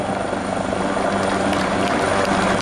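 Italian Coast Guard rescue helicopter Nemo 11 flying at the 2019 Jesolo Air Show, a loud continuous rotor roar and whine that holds steady throughout.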